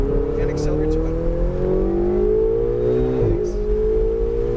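A Ferrari engine pulls steadily up through the revs as it accelerates toward a green cone on a driving course, a rising continuous drone with a brief dip near the end, while a voice talks over it.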